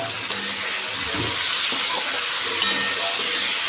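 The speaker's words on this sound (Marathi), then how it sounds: "परतून आता मी कांदा आणि टोमॅटो टाकून घेते." Onion and tomato fry in a pan with ginger garlic paste, a steady close sizzle with a few faint clinks of stirring throughout.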